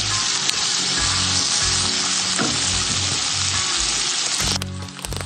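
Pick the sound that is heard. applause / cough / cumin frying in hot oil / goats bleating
cumin frying in hot oil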